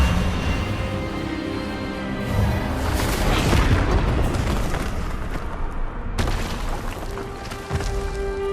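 A spell blast from a wand duel in the Hogwarts Legacy video game, a loud sustained booming burst with a sharp impact crack partway through, heard over a dense game soundscape.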